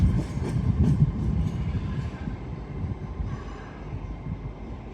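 An LNER Azuma Class 800 train passing through Doncaster station on the East Coast Main Line, a loud, close, rumbling roar with rhythmic wheel clatter that slowly fades as it goes by.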